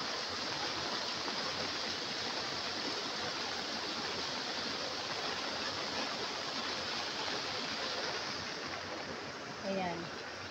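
Steady rushing floodwater fills the scene around a flooded house, a broad constant wash of flowing current with no pauses, fairly close and even throughout.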